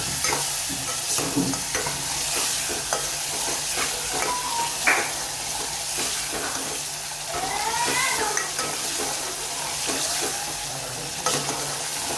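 Potato curry mixture sizzling and frying in a pan while it is stirred, a dense continuous hiss with repeated spoon scrapes and small clinks, close and fairly loud, with no voices.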